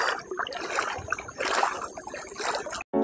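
A small village river trickles slowly over its bed, a quiet, close gurgle of flowing water with soft irregular splashes, cut by a brief dropout near the end.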